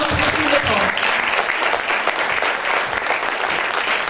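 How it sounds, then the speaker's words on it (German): An audience at an award ceremony breaks into full, sustained applause, dense and even throughout, with no voices standing out above it. "Einen Applaus für Susanna Christine Koch."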